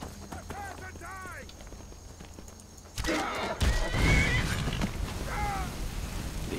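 Loud horse neighs and whinnies come in repeated bursts over clattering hoofbeats and background game ambience, in Skyrim.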